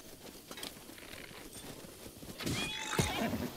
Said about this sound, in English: It's an enemy on a horse.